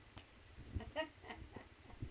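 A few soft, low clucks from a country chicken, close by and fairly quiet, spaced irregularly over a couple of seconds.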